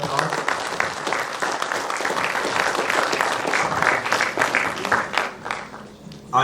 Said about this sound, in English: We extend a very warm welcome to all members on the dais with a big round of applause.